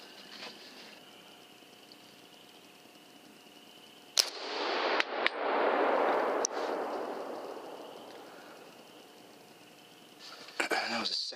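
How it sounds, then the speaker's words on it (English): A rifle follow-up shot at a hog during a night hunt: a sharp close crack, then a long rolling boom echoing out over several seconds, with a few quieter knocks near the end. "I am going to take a follow-up shot"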